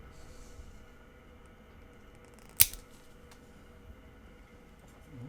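Scissors snip once through an LED light strip, a single sharp cut near the middle of an otherwise quiet stretch with faint background hum.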